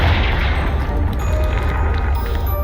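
A Confringo blasting spell in Hogwarts Legacy detonates against a pile of blocking debris, giving a dense, loud, rumbling boom that holds steady and rolls on for the whole stretch.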